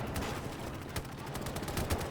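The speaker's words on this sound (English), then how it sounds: "Oh, the cannon, the 37mm, notice it." Repeated cannon and gunfire from a 37mm gun in the WWII video game Gates of Hell, a battle on the march to Murmansk, with sharp reports at irregular intervals over a dense background of battle noise.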